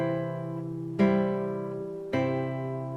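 Three plucked guitar notes ring out one after another, each struck note sustaining and decaying, quiet and close with no talking.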